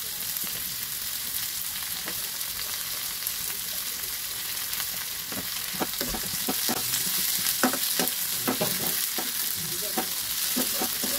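Spices sizzling and frying in a pan for lentil fritter curry, with a steady hiss throughout and a series of sharp scraping stirs clustered in the second half, close and moderately loud.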